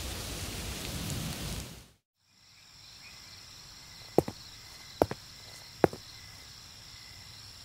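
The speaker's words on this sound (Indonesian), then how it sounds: "Kelima, hujan buatan." Rain falls in a dense, even hiss for about two seconds and then cuts off abruptly, leaving a quiet background broken by three sharp clicks.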